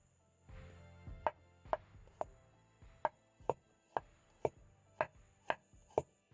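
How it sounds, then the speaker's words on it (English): A knife chops an onion on a cutting board in about a dozen crisp, evenly spaced knocks, close and fairly quiet, with no talk. "I'm going to start off by chopping up my onion,"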